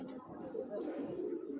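Racing pigeons coo softly and continuously in a loft, a low murmuring burble with several birds overlapping, fairly quiet and steady throughout.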